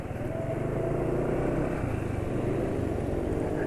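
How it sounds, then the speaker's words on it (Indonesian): A two-stroke motorcycle engine idles close by with a rough, uneven, sluggish rumble and a faint rattling clatter throughout. "Sekarang juga suara mesin sudah kasar lagi"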